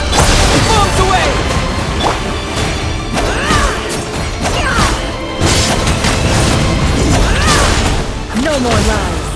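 Bomb explosions in the video game Genshin Impact, a run of loud crashing booms and thuds packed close together over a dense game soundtrack, with a voice speaking at times.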